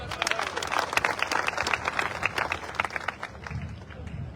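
An audience at an outdoor political rally claps in a dense, sustained burst of applause that tapers toward the end, with crowd murmur throughout.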